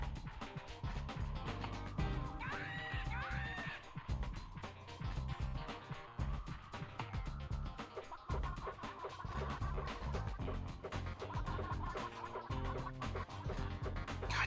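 Chickens cluck in the video game Gex 3: Deep Cover Gecko, repeated short bird calls layered over a steady, dense game soundtrack that runs throughout.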